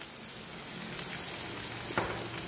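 Green chillies, curry leaves, carrot and asafoetida fry in a pan with a soft, steady sizzle and faint crackles, fairly quiet and close, no voices.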